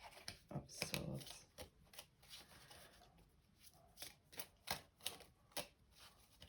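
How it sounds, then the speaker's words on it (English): Tarot cards are shuffled by hand, giving soft, quiet papery riffles and taps that repeat in an uneven rhythm of short bursts, close and alone without talk. "So I'm shuffling."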